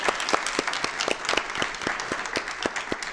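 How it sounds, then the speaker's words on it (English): Audience claps for a panel of speakers at a climate change event, a fairly sparse, distinct round of individual hand claps at moderate distance, continuing steadily for a few seconds. "could we get a round of applause for our panelists real"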